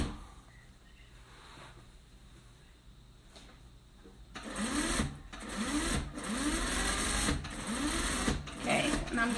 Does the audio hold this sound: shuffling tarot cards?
no